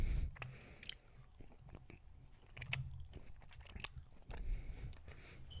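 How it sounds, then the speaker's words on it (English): Food is chewed close to the microphone in a quiet indoor setting, with irregular crunchy bites and moist mouth sounds repeating over several seconds and no talking. "listen to me chew"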